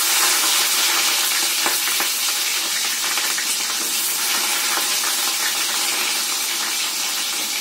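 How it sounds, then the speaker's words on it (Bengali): Chopped onion fries in hot tempering oil in a Bengali home kitchen, a loud, dense hiss and crackle that holds steady the whole time, with no voices over it. "ফোড়নটা একদম হয়ে গেছে রেডি, আমি এর মধ্যে দিয়ে দিলাম পেঁয়াজ কুচি।"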